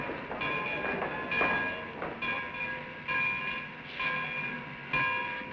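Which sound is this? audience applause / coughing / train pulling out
train pulling out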